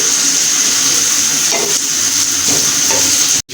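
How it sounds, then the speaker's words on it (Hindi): Sliced carrots frying in ghee in a frying pan give off a loud, continuous sizzle, broken by a few soft stirring scrapes, before cutting out abruptly at the end. "तो चलिए व्यूअर्स अब हम पहले गाजर को फ्राई करते हैं। फ्राई पैन में हमने मामूली घी डाल दिया था।"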